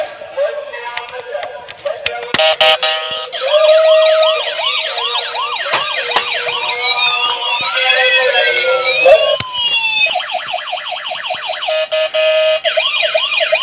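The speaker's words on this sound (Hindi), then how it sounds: "ये देखो एम्बुलेंस।" A battery-powered toy ambulance at a wholesale toy shop plays a loud electronic siren, cycling through wailing, yelping and warbling patterns continuously and close by, with faint background noise and no clear talk.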